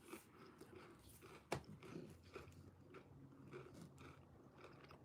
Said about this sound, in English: I can't believe you can hear the fucking pretzels.